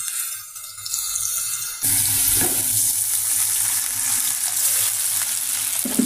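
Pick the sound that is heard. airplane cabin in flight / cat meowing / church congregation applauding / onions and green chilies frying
onions and green chilies frying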